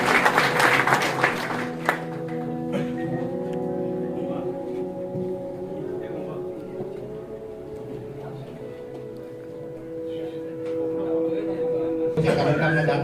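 An audience at a Prajapati community library opening ceremony in Tharad claps in a dense burst, then the applause fades under a host speaking over a sound system with music.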